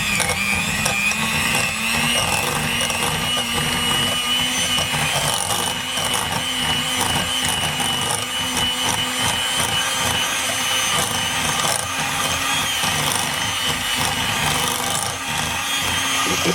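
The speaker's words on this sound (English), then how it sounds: "we're going to get the mixer going." An electric hand mixer whirs continuously while blending softened cream cheese for stuffed portobello mushrooms, a loud, steady, close motor drone with rattling beaters that never lets up.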